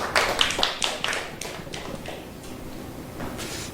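At a church lecture, a handful of scattered claps burst out and quickly fade away, leaving a quiet room.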